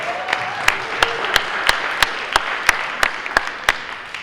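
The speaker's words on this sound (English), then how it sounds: "Round of applause for this fantastic cast of characters" Steady audience applause for the Star Trek cast at a Comic-Con press conference, a broad wash of clapping from a crowd with sharp camera-shutter-like clicks repeating at regular intervals throughout.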